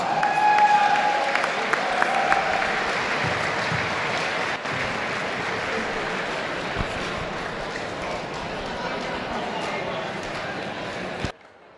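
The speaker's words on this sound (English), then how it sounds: "one more big round of applause" A crowd at a MUDECAS basketball tournament gives a sustained round of applause and cheering for the championship team, dense and continuous for several seconds before stopping abruptly.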